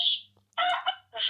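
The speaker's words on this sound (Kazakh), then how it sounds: "Үй жануарлар типа әтеш." A children's sound book plays a recorded rooster crow, a short, loud, tinny call broken into two bursts and heard up close.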